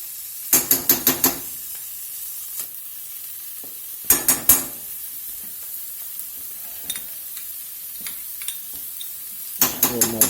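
Diced bacon sizzles steadily in a pan with a constant high hiss, broken by short bursts of scraping stir strokes that come in clusters of quick, close, bright clatters.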